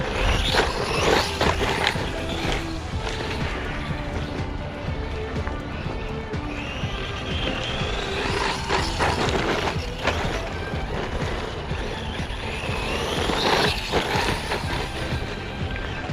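A Haiboxing 903A mini brushless RC car drives around, its motor whining in rising and falling sweeps as it speeds up and slows, with tire and gravel noise and bumps mixed in, moderately close.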